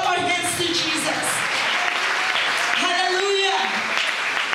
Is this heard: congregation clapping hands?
yes